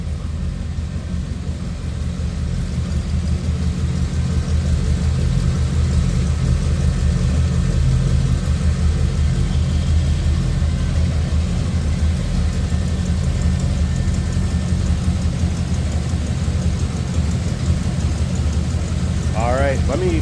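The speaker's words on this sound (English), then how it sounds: "That old school flathead sound." A 1932 Ford Roadster street rod with a flathead V8 idles steadily nearby, a continuous low, rumbling drone holding even for the whole stretch with no revving.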